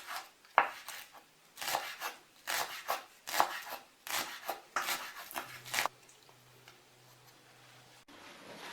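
A knife chops chives on a cutting board, about a dozen close, crisp taps in an uneven rhythm, then a quiet stretch with a faint low hum.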